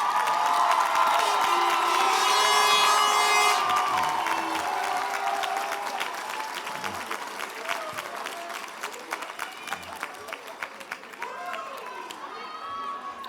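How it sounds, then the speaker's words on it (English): Loud applause and cheering from a commencement ceremony audience at Mount Ida College, swelling at first, with whoops and shouts, then thinning into scattered clapping under a voice. "Please give them a round of applause."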